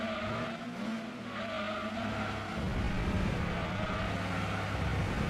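Racing cars roaring together in the Gran Turismo 2 video game, including a small BMW, with a dense, continuous engine drone and tire noise that grows louder and heavier partway through as a pack closes in.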